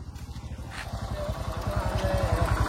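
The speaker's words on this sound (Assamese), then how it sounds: "বাইক চলা" A motorcycle is ridden along a rural path, its engine putting out a fast, even putter that stays close and grows slightly louder.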